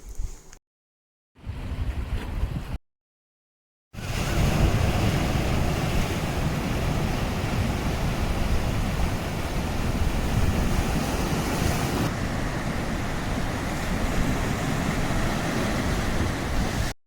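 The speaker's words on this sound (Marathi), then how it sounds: "आता एकदम मस्त लाटा ज्या आहेत त्या लाटा एन्जॉय केला आम्ही" Konkan coast ocean surf near Kudal roars steadily, broad and continuous, with wind buffeting the microphone after a few brief gaps of silence at the start.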